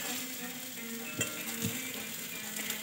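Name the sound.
potato curry cooking in a pan, sizzling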